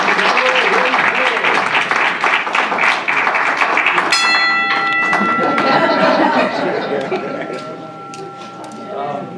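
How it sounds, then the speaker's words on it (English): Audience applause for the president of Team Jamaica Bickle, dense clapping throughout with a bell ringing partway through and voices mixed in, fading slightly toward the end. "Mr. Irwin Clare, can we have a round of applause?"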